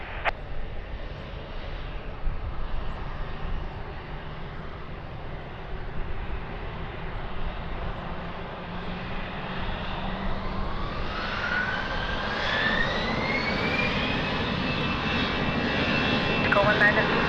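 Airplane engines roar at Lisbon Airport as an aircraft powers up for takeoff, a broad steady rumble that swells louder with a rising whine toward the end, while a radio voice talks over it.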